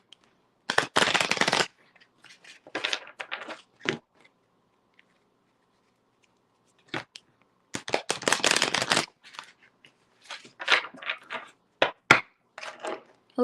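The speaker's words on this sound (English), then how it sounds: "Bingtan, let me shuffle these cards." Tarot cards shuffled during a live tarot reading: several bursts of riffling and card slaps, close and moderately loud, separated by short pauses, with no talking.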